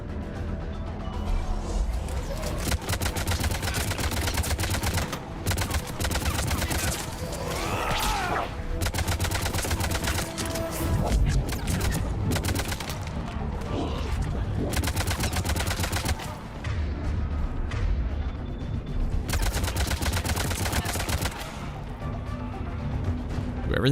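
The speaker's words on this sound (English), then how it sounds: "Are you shooting or what, girlfriend?" Sustained gunfire roars through a Mass Effect 3 battle, with loud rapid bursts, crashes and impacts piling up over a dense soundtrack. They continue almost without pause for the whole stretch.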